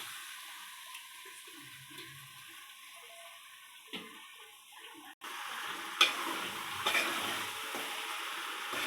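Chicken pieces hit the pan and are stirred, starting with a low hiss and spoon scrapes, then a sudden loud sizzle that carries on steadily with clinks of stirring.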